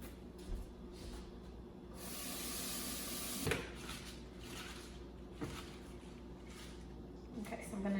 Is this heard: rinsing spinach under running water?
yes